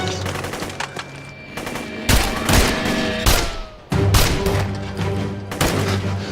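Loud, close bursts of automatic gunfire rattle in repeated volleys during a firefight around a bomb-laden vehicle, with heavy cracks and booms between the bursts.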